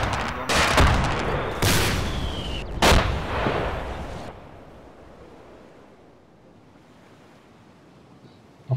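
Explosions and gunfire in the ArmA 2 combat game, several loud booming blasts with cracking shots in the first few seconds, fading into a low rumbling ambience.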